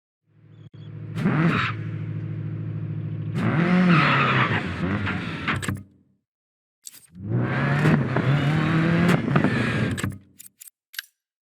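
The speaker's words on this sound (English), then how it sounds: "Let's start with a short drive around to get used to the car." An all-wheel drive rally car in the DIRT 4 video game revs and accelerates in two long bursts with tire squeal and skidding, close and loud, separated by a short silence and ending in a few sharp clicks.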